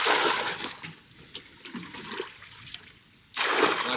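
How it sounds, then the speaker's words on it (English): Rainwater is scooped and poured out of a rowboat in splashing bursts, with quieter dribbling and trickling between the pours. "I have to empty this"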